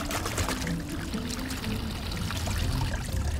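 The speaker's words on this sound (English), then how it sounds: "馬蹄沙咧攪拌咗之後咧，就需要落水，水嘅質素都好重要嘅。" Water poured into a bowl of stirred water chestnut flour for a Macanese dessert, a steady close pour running continuously with a soft splashing wash and no voices.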